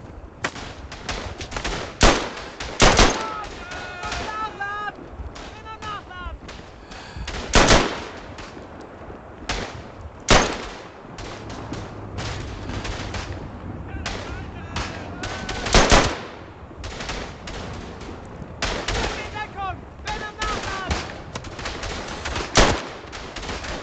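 Repeated gunfire in the World War I shooter game Verdun, sharp loud shots spaced irregularly across the scene with bursts of rapid fire, over a constant battlefield background.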